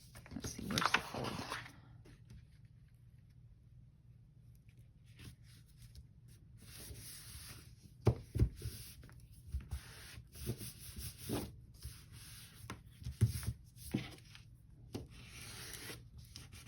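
A pen scratches across the paper pages of a handmade cat journal in short, intermittent scratchy strokes and rubs, quiet and close, separated by pauses.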